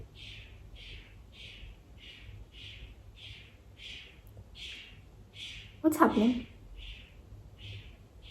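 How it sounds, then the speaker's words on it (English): A bird calls in a steady series of repeated short chirps, about one per half second, moderately close, with a brief louder burst of speech partway through. "It's a bird."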